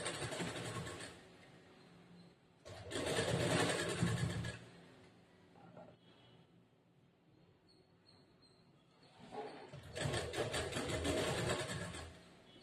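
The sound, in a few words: sewing machine stitching a blouse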